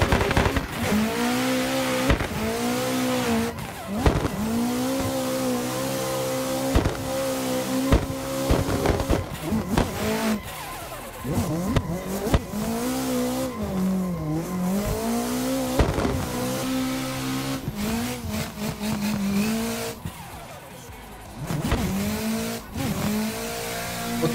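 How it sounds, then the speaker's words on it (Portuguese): An SR20 engine in a drift car in a racing game revs hard and repeatedly, rising and falling with gear shifts and screeching tires, loud and continuous throughout. "esse aqui é o som daquele SR20"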